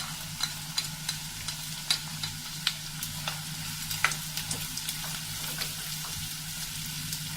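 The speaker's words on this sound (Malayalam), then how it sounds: "ഇനി നമ്മൾ അരിഞ്ഞ് വെച്ചേക്കണം സവാളയും പച്ചമുളകും ചേർത്ത് കൊടുക്കാം" Chopped onion and green chili frying in a pan for a squid curry, giving a steady close sizzle with frequent sharp clicks and scrapes from stirring, continuous throughout with no talk.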